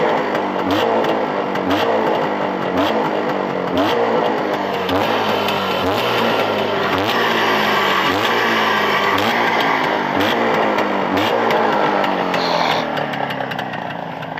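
A Jawa 634 two-cylinder motorcycle engine idles loudly and close by, its rapid even firing pulses forming a steady throbbing drone with slight shifts in pitch across the whole stretch, and no talk over it.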